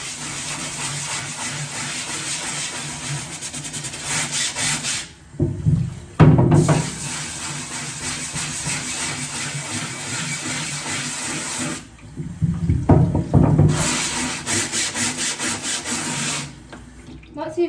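A scrubber rubs wet ink off a screen printing screen with water. The rasping scrub runs steady and close, pausing twice briefly, with splashy water textures throughout.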